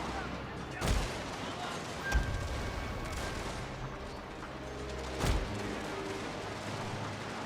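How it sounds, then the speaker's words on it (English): Revolver shots fired by a general amid a battle in a Total War style strategy game, a few sharp distant reports spaced seconds apart over a continuous rumbling battlefield din, with someone talking over it. "He can go ahead and shoot them with his revolvers."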